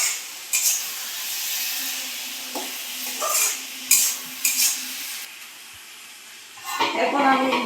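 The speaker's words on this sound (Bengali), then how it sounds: "দেখি তো সবজিগুলো এখন কি হয়েছে, একটু নাড়াচাড়া করে দেখি" Kochur loti (taro stolon) vegetables are stirred in a sizzling pan, with several scraping strokes over a soft continuous fry and some faint talk near the end.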